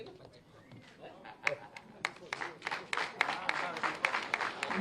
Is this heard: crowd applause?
yes